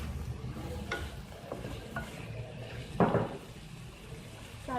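Shredded cabbage stir-fried with soy sauce and chili sauce for chicken chow mein, quiet sizzling under a few distinct spoon scrapes and clacks against the pan, one louder stirring burst near the middle.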